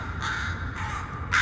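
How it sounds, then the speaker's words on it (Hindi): A crow caws loudly nearby, three harsh calls in quick succession standing alone against a faint background. "वो अजीब ढंग से टेढ़ी गर्दन करके कांव कांव करने लगा"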